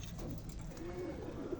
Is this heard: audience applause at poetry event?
no